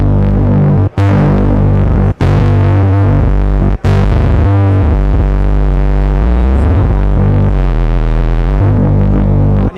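A loud, heavily overdriven Minimonsta synthesizer drone with feedback and boosted external input, thick, distorted, throbbing tone, briefly cut off three times before continuing to grind and shift.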